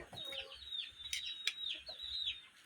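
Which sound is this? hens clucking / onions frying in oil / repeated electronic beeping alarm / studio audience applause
hens clucking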